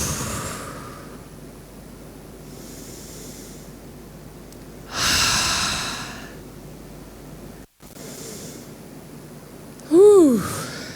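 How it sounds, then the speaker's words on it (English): A group takes deep breaths together, with several audible airy exhales in sequence, a louder whooshing breath out midway and a final strong exhale mixed with a voiced sigh. "And just take a few more, 3 or 4 really deep breaths."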